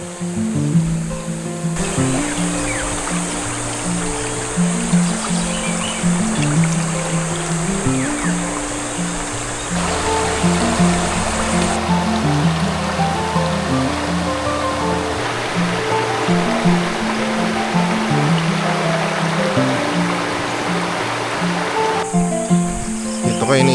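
A river at a campsite flows with a steady, broad rush of water, continuous and fairly close, with insects chirping faintly throughout.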